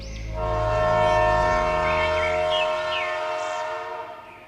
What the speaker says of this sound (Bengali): পেছনে হঠাৎ একটা ট্রেনের শব্দে